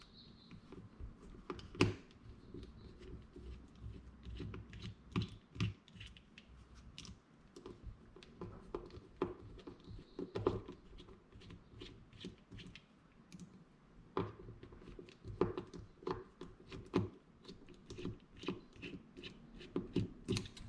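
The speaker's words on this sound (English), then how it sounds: "So now you got 3 screws here. We're going to take those off." Small screwdriver backing tiny screws out of a Shimano Sedona 2500 spinning reel, heard as faint, close, scattered clicks and light scraping ticks spread irregularly over a quiet background, with no talk.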